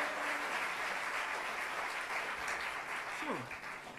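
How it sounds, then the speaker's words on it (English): Steady applause from a live audience at a traditional Irish music session during a winter school concert, dense clapping throughout with a faint whistle-like tone near the end. "Give her a big round of applause."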